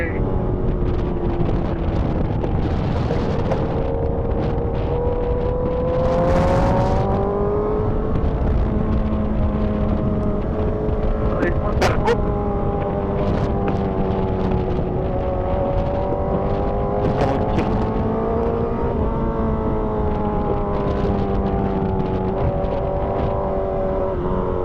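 Motorcycle engines drone and rise in pitch as they pass one after another, with a steady roar throughout and occasional voices nearby.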